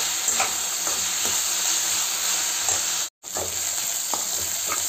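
Onions and green chillies fry in oil with salt, chilli powder and turmeric, giving a constant close sizzle with regular scraping strokes from a stirring spoon and one brief dropout.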